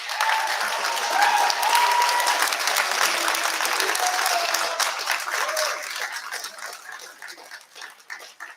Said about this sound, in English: can you show your appreciation to all the loved ones in the room who've supported you by way of a round of applause